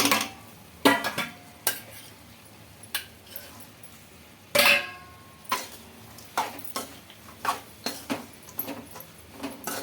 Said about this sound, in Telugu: కాకరకాయలు వేసుకొని బాగా కలుపుకోవాలి